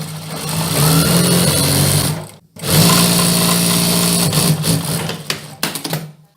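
A sewing machine stitches the side seam of a dress in a loud, close, steady whirring run, pausing briefly midway, then resuming and slowing to a stop with a few stuttering bursts.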